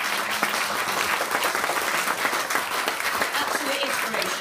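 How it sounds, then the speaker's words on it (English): A crowd at a professional awards ceremony claps loudly and steadily, a dense wash of applause filling the whole stretch without a break. "A round of applause for Venus Awards."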